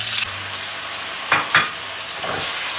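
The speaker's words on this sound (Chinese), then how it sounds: "我们先把这个豆腐啊下锅煎一下" Sliced tofu fries in oil in a pan over low heat with a steady, close hiss, broken by a couple of brief sharper sizzles as the pieces shift, with no talking.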